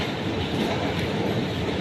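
A Glasgow subway train runs through its underground tunnel, loud and close, with a dense rattling rumble and clickety-clack as the carriage bumps and rocks along the track, with no talking.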